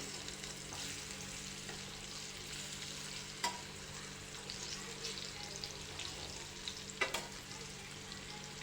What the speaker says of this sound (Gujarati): થોડીવાર આપણે તેલમાં સેલો ફ્રાય કરી લેવાના છે આવી રીતે ફેરવી લઈશું